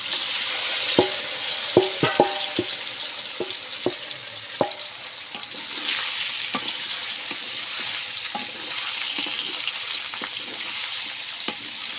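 Indian olives frying in oil with cumin and spices for an Assamese pickle, a steady close sizzle broken by sharp clicks and taps of a spoon stirring against the pan.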